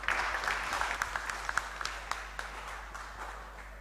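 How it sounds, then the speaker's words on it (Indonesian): Church congregation at an Indonesian ordination service claps, a dense burst of many hands that gradually thins and fades, with no talk over it. "Sekali lagi boleh beri tepuk tangan yang meriah untuk Pendeta Gilbert"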